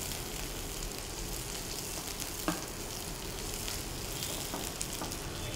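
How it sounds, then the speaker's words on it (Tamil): Sambar shallots sauté in a hot pan with oil for drumstick sambar, giving a steady close sizzle and crackle with a few soft stirring clicks and no voices. "சாம்பார் வெங்காயம் போட்டுக்கோங்க. ரொம்ப பொன்னிறமாக வதக்க வேண்டாம்."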